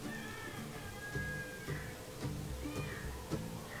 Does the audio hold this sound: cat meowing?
yes